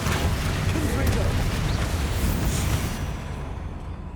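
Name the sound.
Confringo and Bombarda spell explosions in video game Hogwarts Legacy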